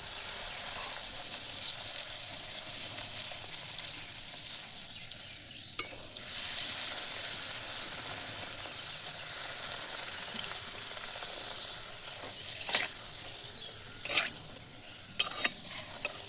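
Luchi fry in hot oil in a clay wok outdoors in a field, giving a steady, moderately quiet sizzle with a few brief louder crackles and clinks near the end.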